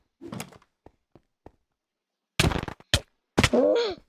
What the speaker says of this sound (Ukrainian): Краще, думаю, з арбалета стріляти.